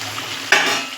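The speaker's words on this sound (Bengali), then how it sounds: "দিয়ে আরেকটু নাড়াচাড়া দেবো। ওই 1-2 মিনিটের মতো নাড়াচাড়া দেবো।" Pointed gourds are stirred into mustard paste and oil in a pan, a short scraping stir that bursts into bright sizzling frying halfway through, close and fairly loud.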